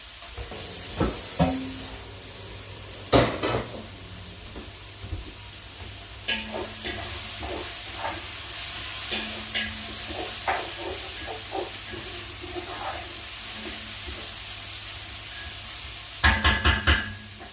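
Garlic sweating in a pan for ratatouille makes a soft continuous hiss and sizzle, broken by scattered clinks and scrapes of utensils and a brief burst of clatter near the end, with no talking.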